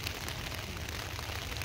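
Steady rain falls on an open farm field, producing a constant, fairly faint hiss with a low rumble underneath and no voices.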